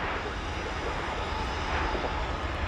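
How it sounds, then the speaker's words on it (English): A Martinair cargo jet on approach at DFW Airport, a steady, broad engine roar that stays loud and even for the whole stretch. "We have a Martinair Supercargo Master coming into view here."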